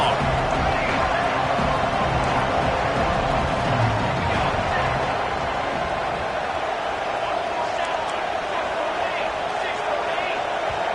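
Steady stadium crowd roar at an Alabama Crimson Tide versus Georgia Bulldogs college football game, a loud continuous wash of noise on third and long with a play-by-play commentator talking over it throughout.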